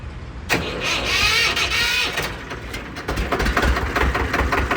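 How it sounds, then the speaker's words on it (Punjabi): A Ford 3600 tractor engine, with the choke on, cranks and catches, then settles into a rough, rumbling idle up close. "ਆਵਾਜ਼ ਚੈੱਕ ਕਰਾਉਣੇ ਤੁਹਾਨੂੰ ਟਰੈਕਟਰ ਦੀ ਕਰਿਓ ਚੈੱਕ"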